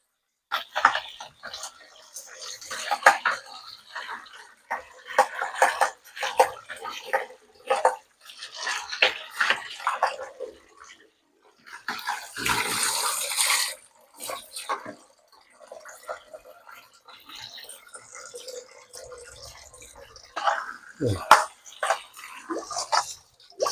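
Vegetables being washed and sloshed in a basin of water while preparing a green mango salad, with intermittent splashes and drips under frequent talking.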